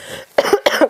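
A teacher coughs hard during a biology lesson, two sharp bursts one after the other, up close and alone with no speech over them.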